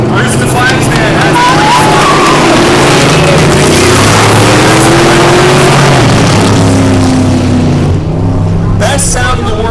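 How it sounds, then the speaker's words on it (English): Dirt track race cars and trucks fire off and roar together, a loud, dense wall of engine noise with revs rising and falling, close and constant throughout. "Hearing those cars and trucks fire off, dirt flying"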